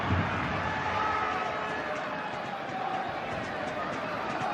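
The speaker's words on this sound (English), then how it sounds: "into the stands, and that brings a cheer." Stadium crowd at a football match between Cultural Leonesa and Barcelona gives a steady, broad cheer and roar that stays loud and even throughout, with no distinct breaks.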